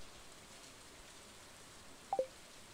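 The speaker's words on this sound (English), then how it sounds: "it's raining." Rain falls in the farming video game Stardew Valley, a faint steady hiss throughout with two brief soft ticks near the end.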